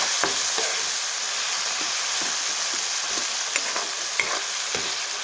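A spoon stirs coriander powder into eggplant masala curry frying in a pan, giving a steady close sizzle with soft scraping taps of the utensil throughout.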